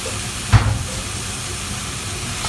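Drained, soaked potatoes tipped into hot spices for aloo dum: a brief loud splash-sizzle near the start, then a steady broad hiss of frying that carries on to the end.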